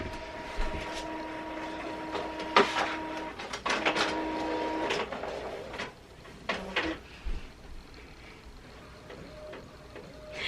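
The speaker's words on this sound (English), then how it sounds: "for my printer, I need to flip the paper really quickly because it's a front and back print" A home printer runs a front-and-back print job, whirring and feeding paper in bursts of mechanical clatter, clicks and clunks separated by quieter pauses, close and alone.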